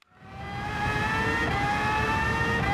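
Race car at full throttle on Road Atlanta in the video game Gran Turismo 7, its engine swelling quickly into a steady high-pitched wail that holds loud and close with no talk.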